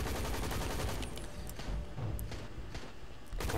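Video game gunfire in Hazrd Ops, with rapid shots crackling in a dense, continuous barrage and occasional sharper bursts standing out, and nobody speaking.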